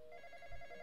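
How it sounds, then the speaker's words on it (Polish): A telephone ringing in the Roblox horror game The Intruder, a brief steady electronic ring tone, faint and alone. "Znowu dzwoni telefon."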